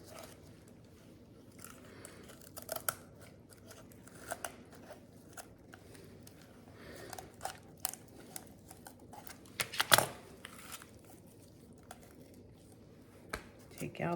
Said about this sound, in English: take out the backbone of our chicken, and the best way to do that is with some kitchen shears